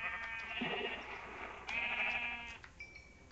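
Sheep bleating repeatedly with a nasal, wavering tone in Minecraft, several overlapping calls over a steady background.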